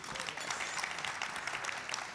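Audience applause for mayors at an annual meeting plenary lunch, a continuous crackling roar of many hands clapping at steady volume throughout, with no speech over it.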